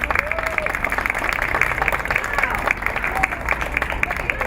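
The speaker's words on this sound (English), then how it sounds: "let's give a warm round of applause to all of our students who participated in our show today" A school audience at an international school show claps for the participating students, a lively crowd applause with some cheering voices, steady and fairly close throughout.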